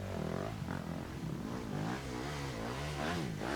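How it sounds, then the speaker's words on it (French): Motorcycle engine revving hard at an endurocross race in Mansonville, a loud rising and falling whine with repeated throttle surges, heard near and continuous. "On entend, lui, son moteur qui révolutionne à fond."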